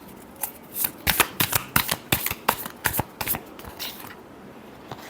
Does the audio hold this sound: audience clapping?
no